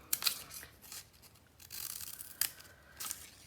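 Multi-bladed fringe scissors snip through paper strips in quick, crisp cuts, several bright clicks clustered at the start and again later, close and quiet with soft rustling between.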